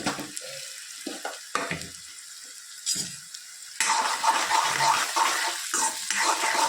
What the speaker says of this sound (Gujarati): તેલ થઈ ગયું છે, 4-5 કરી જઈને તેલ મૂક્યું છે. એમાં આપણે લસણ અને મરચાં નાખી દઈએ.